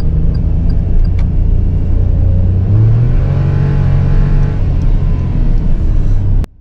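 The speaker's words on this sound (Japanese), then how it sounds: "エンジンばっかうなって、全然加速しないですね" A fourth-generation Daihatsu Tanto X-grade kei car shifted one position below D drones loudly under throttle, its engine note rising steadily in pitch without much change, close and continuous until an abrupt cut at the end.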